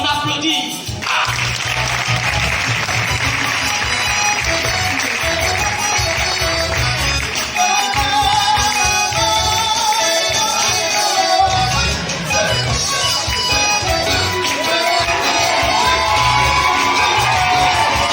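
Crowd at a slam poetry performance in a festival setting, loud sustained applause mixed with cheering, whoops and shouts, dense and continuous for the whole stretch.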